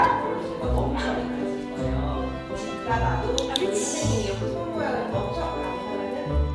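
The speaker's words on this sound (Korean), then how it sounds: "하루는 뭔가 필요할 때 시끄럽게 짖는 행동을 하네요." A Bichon Frise barks in short, repeated bursts at close range, with a steady background hum under it.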